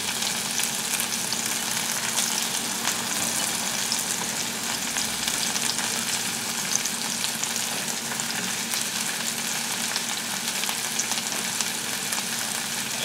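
Mushrooms fry in a hot pan with a steady, close crackling sizzle that holds even throughout; a voice briefly speaks once.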